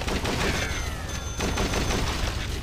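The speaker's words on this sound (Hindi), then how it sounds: "ये वापस से हम लोग आ गए हमारे सब मशीन गन पे" A submachine gun in Dead Trigger 2 fires in continuous rapid automatic bursts, loud and dense throughout the short stretch with no talking.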